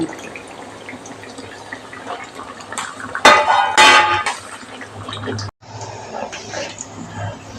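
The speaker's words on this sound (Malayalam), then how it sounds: "ഈ സമയത്ത് നമുക്ക് തമ്പാലി ഒഴിച്ചു കൊടുക്കാം" Thin coconut milk is poured into a simmering Thrissur-style fish curry made with kolan fish, giving a close, splashing gush about a second long amid light clinks of pots and utensils.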